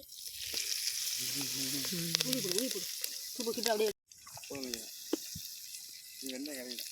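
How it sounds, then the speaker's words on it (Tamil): Cooking oil sizzles and fries steadily in a pan during a late-night outdoor kootanchoru cook-up, with curry leaves and tomato going in. Several people talk over the frying throughout, and it breaks off briefly midway. "நல்லா பொரியுது."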